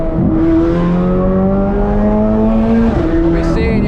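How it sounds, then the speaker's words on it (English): Chevrolet Corvette C8 Z06 engine roars loud and close, pitch climbing steadily, then blipping sharply upward on a downshift near the end before settling into a lower drone. "Downshift."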